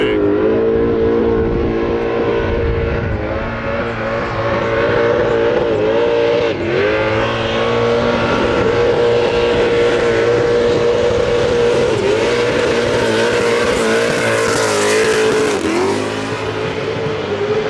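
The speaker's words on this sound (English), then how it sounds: "we were watching some Evos and some GTRs go rip down" Mitsubishi Evos and Nissan GTRs racing down a track, loud engines roaring and revving with shifting pitch as cars accelerate, several passes blending into a continuous snarl with no talking.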